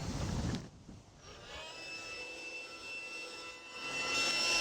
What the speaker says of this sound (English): when you use the blower first, it actually fills up pretty quick